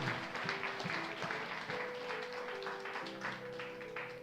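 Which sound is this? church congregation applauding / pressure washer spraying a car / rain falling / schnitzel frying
church congregation applauding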